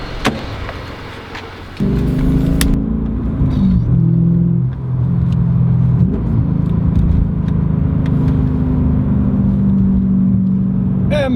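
A BMW M5 E39 engine starts up and then holds a loud, steady, deep rumble close by, with shifts in pitch as the revs rise and fall, sounding over about ten seconds.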